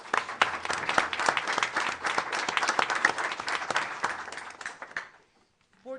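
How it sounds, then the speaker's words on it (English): A dense wave of audience applause fills a school board of education meeting, steady and full for about five seconds before cutting off into near silence and a faint voice. "Another round of applause."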